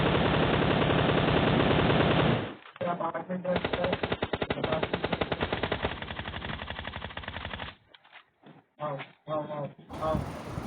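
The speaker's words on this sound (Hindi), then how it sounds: "मैंने थोड़ा सा प्री फायर दिया कि बंदा शायद फायर के लपेटे में आ जाए" Rapid automatic gunfire from a PUBG Mobile match, loud sustained bursts filling the first seconds, then choppier volleys with brief gaps and a few short trailing shots near the end.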